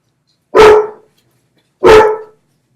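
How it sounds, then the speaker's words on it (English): A dog barks twice, loud and close, two sharp single barks about a second apart with quiet between them, no talking. "sorry, that's my dog."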